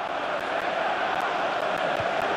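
Stadium crowd noise from the FIFA 20 football game at the FA Community Shield, Chelsea versus Liverpool, a steady broadband roar of spectators that holds at an even level throughout, with no speech on top.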